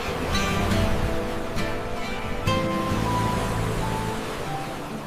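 Sea waves washing onto a beach give a steady broadband surf roar, moderately loud and unbroken, with a few brief surges and no voices over it.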